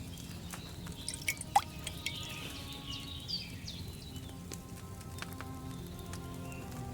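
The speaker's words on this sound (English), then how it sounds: "Get a phial and pour it in." In the video game Kingdom Come Deliverance 2, a chamomile decoction is poured from a cauldron into a phial, producing faint liquid trickles and a few soft drips over quiet background ambience.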